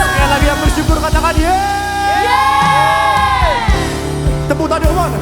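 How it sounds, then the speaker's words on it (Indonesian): A church congregation erupts in loud, close cheering and whooping, with many voices rising in long shouted hallelujah calls over rhythmic thumps, sustained for several seconds before breaking into scattered yells. "Sorakan haleluya"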